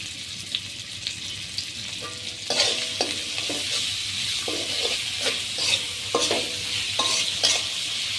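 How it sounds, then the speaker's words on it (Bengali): Chopped onions sizzle in hot oil for a village-style duck and potato curry, a steady close frying hiss broken by repeated sharp clatters as they are stirred. "গরম তেলের মধ্যে আমি পেঁয়াজ কুচিগুলো দিয়ে দিলাম।"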